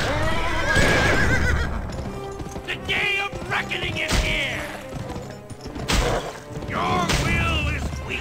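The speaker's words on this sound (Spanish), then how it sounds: "que se está muriendo el caballo" Horse in the video game Gun neighing and whinnying loudly as it dies, with repeated shrill whinnies over hoof clatter, crashes and busy game noise throughout.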